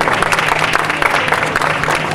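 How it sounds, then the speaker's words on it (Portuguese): Applause at an equestrian award ceremony at a riding club, a steady, fairly loud spread of clapping from a modest crowd, continuous throughout with no voices over it. "Uma salva de palmas."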